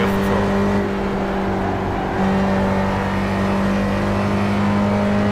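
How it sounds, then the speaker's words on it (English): Ford SCCA Spec Racer engine in the iRacing video game, a loud continuous engine drone with a pitch shift as it shifts gears, heard from inside the car with no voices. "I think that sounds so much better when shifting, doing that, than like just taking your foot fully off the throttle."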